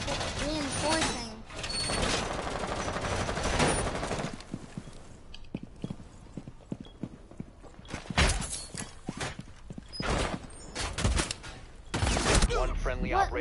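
Rapid bursts of gunfire punching through a wall in the tactical shooter Rainbow Six Siege, loud and close, with several sharp volleys spread across the stretch amid game ambience and occasional talk.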